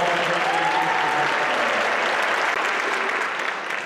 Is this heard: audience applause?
yes